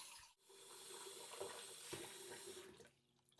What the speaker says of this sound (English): I'm gonna put a little bit of water in the sink.